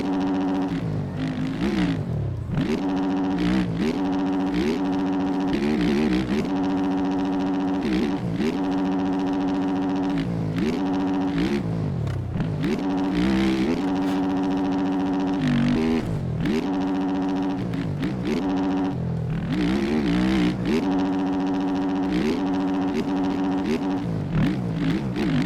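A motocross dirt bike engine revving hard during a race in Tampa, loud and close, with repeated rising and falling throttle sweeps and gear changes that continue steadily throughout with no talking.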